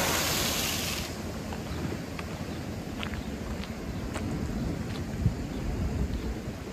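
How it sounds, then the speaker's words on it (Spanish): Ocean waves wash in a steady, broad roar along the Guánica boardwalk in Puerto Rico after Hurricane Beryl's remnants passed, with wind buffeting the microphone and a brief louder gust at the start. "¿Ve las olas allá?"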